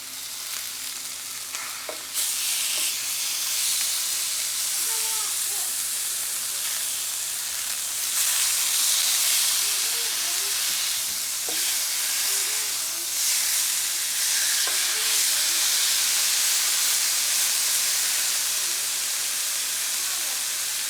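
A steak sizzles loudly in a hot pan just after being flipped, bright frying hiss rising abruptly and holding steady with crackling pops, alone without talk.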